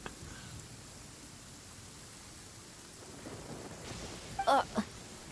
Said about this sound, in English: Oh nice, with lightning and everything.